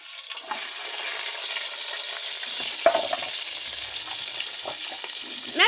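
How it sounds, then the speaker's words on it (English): Spaghetti sizzles and crackles steadily in a hot frying pan, with occasional stirring scrapes, close and continuous. "start frying and cooking my spaghetti"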